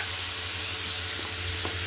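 Loud, continuous sizzling and crackling of tempering spices hitting hot oil for kadhi, close up, with a bright hiss that stays steady throughout.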